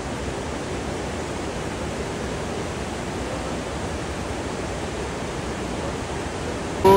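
A Himalayan river flows beside a trek trail in Uttarakhand, a loud, steady broadband rush of water that holds constant throughout, close by and with no voices.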